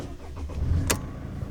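A Mercedes C220 CDI W203 with an OM646 diesel engine cranks briefly up close. A low rumbling churn rises and is followed by a sharp mechanical click.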